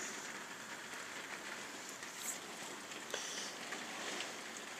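Heavy rain from a violent storm near Carpentras, Vaucluse beats steadily against a window, a dense, even hiss of drops with no break, fairly faint and heard from indoors.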